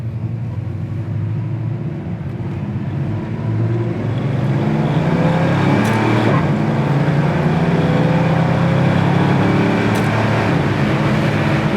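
A 1972 Chevy Nova accelerating hard from close by, its engine note climbing steadily, then dropping and climbing again through the gear shifts as it pulls away, loud and continuous with no talking.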